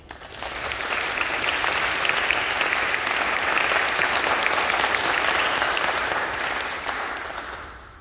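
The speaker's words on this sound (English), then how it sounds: "Please welcome the Women's Chorale from Braden River High School to the stage with a round of applause." Audience applause greets a high school women's choir arriving on stage at a state choral performance, a dense, steady clapping that swells in, holds for several seconds and fades.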